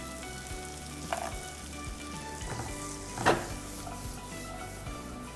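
Onion and carrot stir-fried over high heat in a pan, a steady close sizzle with occasional stirring scrapes and clinks, one sharper clatter midway.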